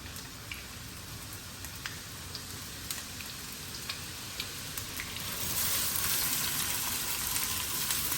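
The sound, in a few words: onions frying in a pan for karela chicken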